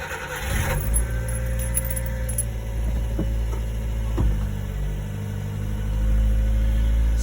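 A carbureted car engine cranks and catches after a single pedal pump, then settles into a loud, steady idle close by, with no talking over it.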